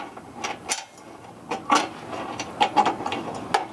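A metal pin on a Bubba Keg steel kamado charcoal grill cart is unscrewed, giving a series of small scraping, ratcheting and clicking metallic sounds at close range, with no talking.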